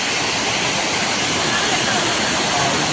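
A waterfall pours down from high above, a steady, dense wash of rushing water that fills the whole scene without a break.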